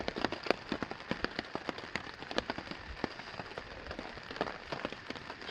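Rain pattering steadily on a tarp shelter in cedar woods during an August trip in the Boundary Waters, with many sharp nearby drop hits over a constant hiss and no talking.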